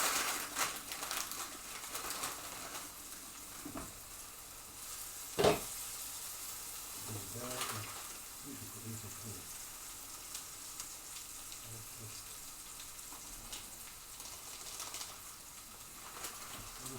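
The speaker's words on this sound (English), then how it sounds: "Now it's started to sizzle and make all the wonderful sounds." Ramen ingredients frying in a pan give a faint, steady sizzle beneath occasional stirring clatter and one sharp knock partway through.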